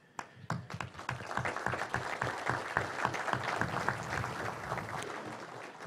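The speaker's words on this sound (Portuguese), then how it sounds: "Os aplausos para o doutor Luiz Henrique Rafael são merecidos." Audience applause at a state congress lecture in São Paulo, many hands clapping in a steady, moderately distant patter that swells and holds for several seconds.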